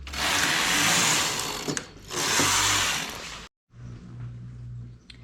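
A knitting machine runs rows of stockinette stitch, its carriage sweeping with a loud mechanical rattling whir in two long passes, then a brief pause before a quieter hum with faint clicks.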